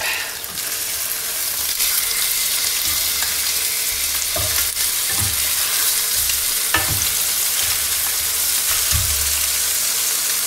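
Food sizzles steadily in a hot frying pan after being flipped, a continuous fry hiss with a few soft scrapes and utensil taps along the way.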